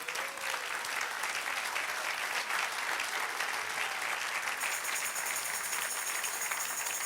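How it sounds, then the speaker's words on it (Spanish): Church congregation applauding together in a sustained, dense wash of clapping that fills the room steadily from start to finish, with no talk over it. "Dale un aplauso al Señor."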